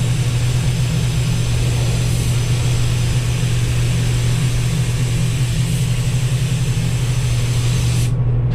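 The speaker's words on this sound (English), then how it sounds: "I am going to shoot a coat of paint on it first thing" Steady hissing spray of paint onto the dash of a Willys CJ-2A flat fender Jeep, a loud continuous broadband rush with a low hum beneath, running unbroken for about eight seconds before cutting off abruptly.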